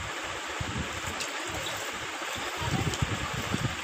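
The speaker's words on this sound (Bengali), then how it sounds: "আমি দুধটুকু এখন ঢেলে দিলাম একটি পাতিলে" Packaged milk pours into a cooking pot for making falooda at home, giving a faint, continuous trickling and gurgling wash with a few soft low thumps.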